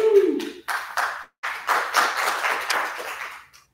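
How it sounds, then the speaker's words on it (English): Applause at an arts festival plenary session, scattered clapping in short bursts with brief gaps, moderately close, tapering off near the end. "I hope our online audience heard the thunderous applause."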